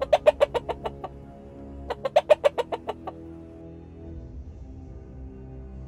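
A hen gives two quick bursts of clucking, each a descending run of about eight sharp notes, loud and close. Quieter rustling follows in the background.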